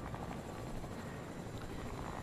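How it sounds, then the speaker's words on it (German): Helicopter rotor and engine noise from a video game, a steady dense whir holding at a moderate level throughout without a break. "Ist sogar ein Helikopter, ist das deiner?"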